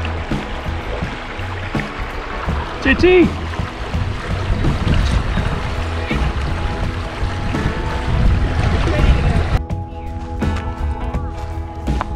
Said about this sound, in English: Gotta love a mountain creek.